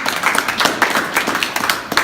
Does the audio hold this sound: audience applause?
yes